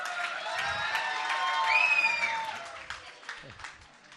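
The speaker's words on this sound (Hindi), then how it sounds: "जोरदार तालियां" An audience at a Jain gurukul gathering with a group of monks bursts into loud, sustained clapping, with a few cheers and a whistling tone rising above the dense patter before it begins to thin out.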